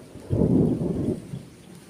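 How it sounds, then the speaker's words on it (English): Thunderstorm with rain at night in the Philippines: a deep rolling thunder rumble swells and fades over steady rainfall, loud and close, with no voices. "so we've got some nice rainy weather coming"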